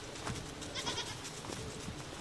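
Goats at a farmyard beside a double-wide mobile home bleat faintly in the distance, a couple of soft calls over a low outdoor background hiss.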